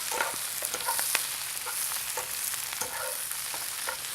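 Fresh spinach wilts with garlic in a hot pan, giving a steady close sizzle with scattered soft crackles and occasional stirring scrapes throughout.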